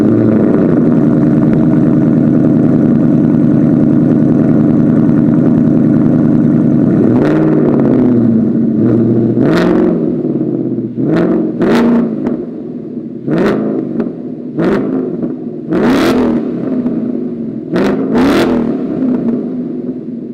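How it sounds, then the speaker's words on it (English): A Ford Mustang with an AWE Touring catback exhaust idles with a deep rumble, then barks through a series of sharp revs, each surging and falling back, loud and close. "what the AWE Touring catback exhaust system actually sounds like"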